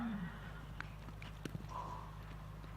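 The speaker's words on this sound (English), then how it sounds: "Into the camp goes our number 63 competitor, Lock Finch, with his horse J-Lo" A horse moves at a maiden campdraft, its hoof clip-clops faint and scattered over a steady low hum and distant background noise, with no talk.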